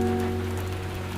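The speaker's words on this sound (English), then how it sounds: "Hear the raindrops as they land on different surfaces." Brief, dense patter of rain striking roof, sidewalk and leaves, a continuous wash over a steady low hum, heard alone without voices.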